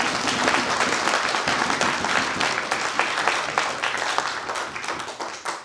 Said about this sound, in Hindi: एक बार जोरदार ताली आप सबके लिए।